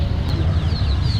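Ducks quack amid the busy, noisy bustle of a seafood wholesale market in Dagupan, Pangasinan, with short fowl calls rising over a constant crowd rumble.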